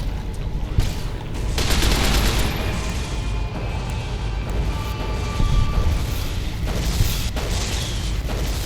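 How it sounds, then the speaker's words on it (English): Sustained gunfire from a companion named Eddie in Fallout: New Vegas, dense bursts and booming shots rolling continuously and loudly throughout, with no voices. "You can stop shooting, Eddie. It's dead."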